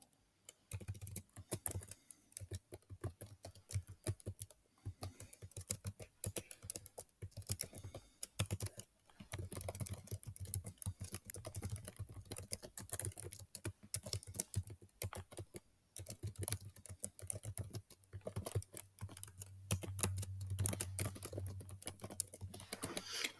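Fast, steady typing on a computer keyboard while filling in a company name reservation form online, with irregular bursts of clicking keys and brief pauses, close and fairly quiet, with no talking.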